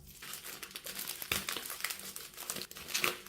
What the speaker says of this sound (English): Got to get through the next layer of cellophane